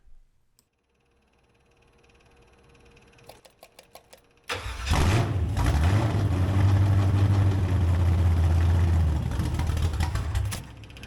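A Chevy DZ302 V8, 11-to-1 compression with a solid roller camshaft, in a Chevy Caprice 9c1, fires for the first time: several starter cranks, then it catches into a loud, lumpy idle that revs briefly before settling.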